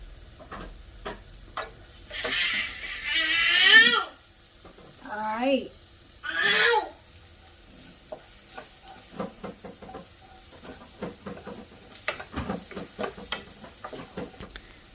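Chopped carrots fry with onions in a pan: someone speaks briefly over soft sizzling, then a spoon clicks and scrapes as the vegetables are stirred, close and moderately quiet.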